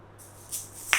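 A faint swish of moving asalato shells, then a single crisp click struck with the right thumb, close and short.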